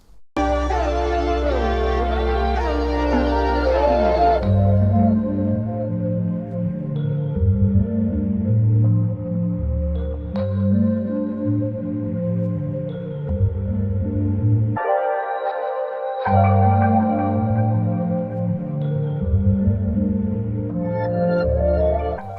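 The outro of a dark, slow ambient music sample, with sustained low tones and layered pads, briefly dropping out near the end before resuming.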